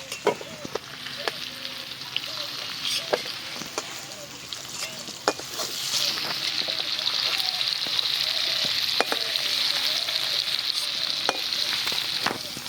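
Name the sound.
pumpkin pieces frying in oil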